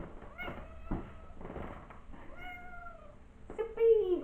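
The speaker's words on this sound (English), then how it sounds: "Oh, my cat is approaching." A pet cat, a young female, gives a couple of short meows near the end, close and fairly loud, after a stretch of a person talking nearby.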